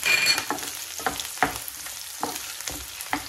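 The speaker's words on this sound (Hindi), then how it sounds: "प्याज को भुनेंगे" Roughly chopped onions fry in a pan with a continuous sizzle, while a spoon stirs with a rhythmic series of scraping strokes, close and fairly loud, with no talking.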